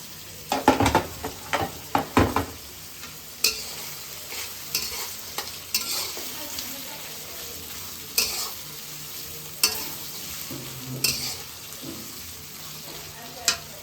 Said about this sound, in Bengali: তো এই আলু আর গাজরটা একটু সিদ্ধ হয়ে আসুক